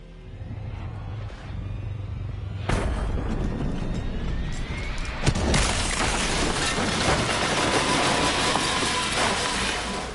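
A plane crashing and exploding in a zombie video game: a heavy boom erupts partway through, followed by a second blast and a loud, sustained roar of fire and debris over a low rumbling bed.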